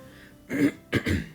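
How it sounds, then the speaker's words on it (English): Two quick, rough throat clearings from a single person, close and moderately loud, the second following right after the first. "I apologize if I have to clear my throat a lot"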